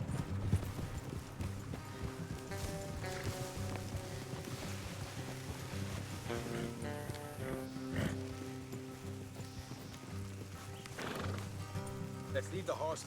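Horses in the video game Red Dead Redemption 2 clip-clop steadily along with neighs and whinnies, the hoofbeats close and continuous over a busy game soundscape.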